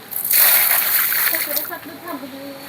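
Dirty, larva-infested water is tossed out in one loud splash and splatter that trails off into dripping, close by, followed by a voice speaking.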